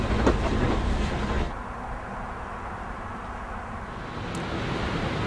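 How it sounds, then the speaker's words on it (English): Amtrak Acela Express passenger train running on rails toward Washington, DC, a steady broad rumble heard from on board, louder at first, then settling into a constant low roar with faint rail clatter. "We're now on the Accelera Express, making our way towards Washington, DC."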